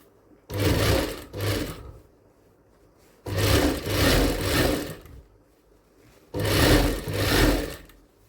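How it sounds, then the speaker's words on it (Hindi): A sewing machine stitches a blouse seam in three loud, whirring bursts, each running a second or two with short pauses between, close by and with no talking. "यहाँ रखना है और 1/4 इंच दूर से सिलाई लगानी है।"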